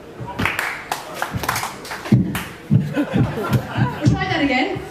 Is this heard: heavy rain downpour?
no